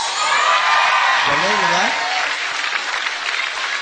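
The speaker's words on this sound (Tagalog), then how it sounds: "Alam mo ba yung palakpak at sigaw ng mga tao yan?" A studio audience on a Filipino variety show claps loudly and whoops in a dense, sustained wave of applause, while a host speaks briefly over the cheering.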